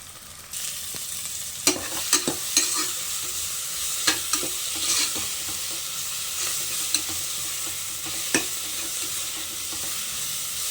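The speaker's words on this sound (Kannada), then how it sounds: "ಈಗ ಶುಂಠಿ ಬೆಳ್ಳುಳ್ಳಿ ಹಸಿಮೆಣ್ಸಿನ್ಕಾಯಿ ಪೇಸ್ಟ್ ಮಾಡ್ಕೊಂಡಿದ್ವಲ್ಲ ಅದನ್ನು ಆ್ಯಡ್ ಮಾಡ್ತಾಯಿದ್ದೀನಿ." Ginger, garlic and green chilli paste frying for ghee rice, with a steady sizzle broken by several sharp stir scrapes and clacks of a utensil against the pan, close up and free of talk.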